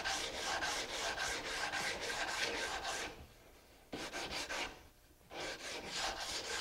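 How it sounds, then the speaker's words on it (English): Rhythmic, raspy strokes of coarse 100-grit sandpaper rub against wood, back and forth in steady passes, pausing briefly before resuming. "sandpaper to start the smoothing process. I just start with a coarse 100 grit"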